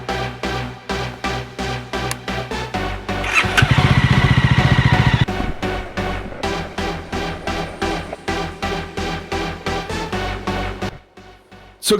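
Jawa Classic 300 motorcycle engine running steadily up close, with rhythmic pulsing beats, a louder burst of revving midway, then settling back to a steady idle-like thrum before cutting off near the end.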